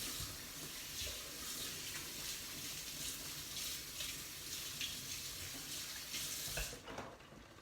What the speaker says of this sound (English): Okay, so rinse my hand.